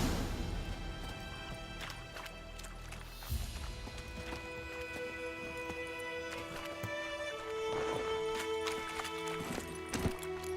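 Horse hooves clip-clopping at a steady, rhythmic pace on a road in The Witcher 3, fairly close and continuous, mixed with game music tones and a brief crash-like thump.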